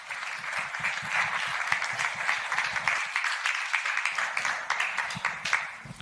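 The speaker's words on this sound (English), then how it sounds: "Can we have a round of applause, please?" Sustained applause from a large audience at a poker league team owners announcement, steady and enthusiastic, filling the room for several seconds.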